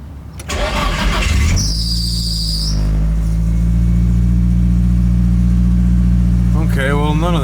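A Nissan 240SX with a swapped SR20 engine cranks briefly and fires up, settling into a loud, steady idle with a faint whine early on, while people talk over it near the end.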